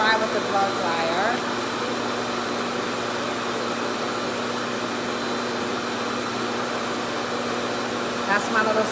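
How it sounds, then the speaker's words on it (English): A RevAir hair dryer blows with a constant, vacuum-like whooshing hum up close, holding steady throughout while a voice talks over it. "So this is my side I'm going to try with the blow dryer."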